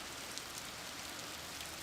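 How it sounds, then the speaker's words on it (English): Rain falls hard and steadily on surfaces, a constant faint hiss with scattered drop patter throughout and no voices. "Rain is coming down in sheets and pouring off the cliffs above the road."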